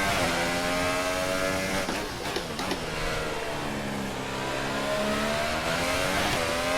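An F1 car engine from the game F1 2018 screams at high revs, dipping briefly as the car swings wide through a corner, then climbing again in a steady loud whine that fills the whole stretch with no talking.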